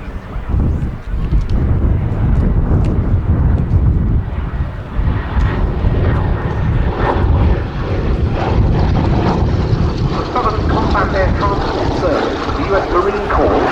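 Piston propeller engines of a Douglas R4D-6S at an air show at Duxford airfield, a loud steady drone with a broad rumble as the aircraft taxis, under continuous commentary over a public address system.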